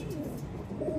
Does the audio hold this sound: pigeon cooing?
yes